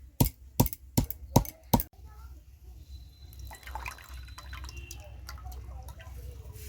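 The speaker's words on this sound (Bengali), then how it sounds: "এইটাকে আর একবার থেতো করে নেবো এতে কিন্তু এখনও অনেক রস আছে" Ingredients pounded and crushed again to squeeze out juice for a cooling summer sherbet: five heavy, evenly spaced thuds at close range, then quieter wet squishing and dripping sounds.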